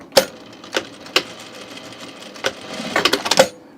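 A sewing machine stitches a small triangle across the folded edge of a shirt, giving a few sharp, isolated clicks that end in a brief quicker cluster, close and fairly loud.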